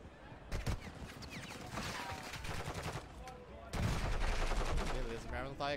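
Gunfire in Warzone 2 gameplay: rapid automatic bursts and single shots in clusters, with a heavier volley toward the end, mixed with game sounds and faint talk.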